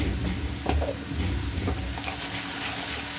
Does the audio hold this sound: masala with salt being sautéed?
yes